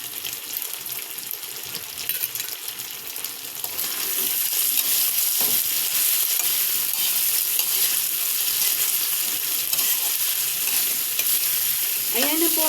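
Cubed tofu being sautéed for Filipino tofu sisig: a constant sizzling hiss that grows louder and fuller after a few seconds, then holds steady and close, with a faint clatter near the end and no talk.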